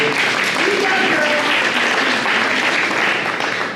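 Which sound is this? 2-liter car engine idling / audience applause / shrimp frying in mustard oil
audience applause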